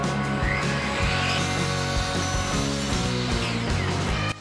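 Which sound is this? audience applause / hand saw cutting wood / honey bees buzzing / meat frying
hand saw cutting wood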